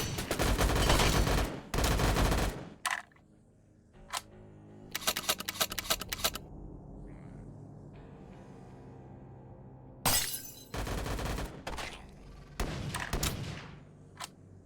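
Bursts of shotgun fire in the VRChat video game, rapid clusters of sharp blasts separated by quieter gaps, loud and close, with faint background murmur.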